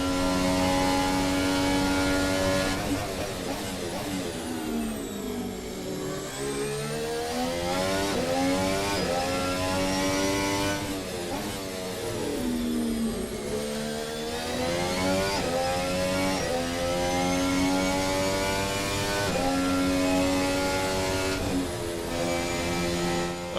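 F1 car engine from a racing video game mod on a flat-out push lap with DRS open, a loud high-pitched screaming wail that climbs through the gears, dips for braking and downshifts, then rises again, continuous with no talking.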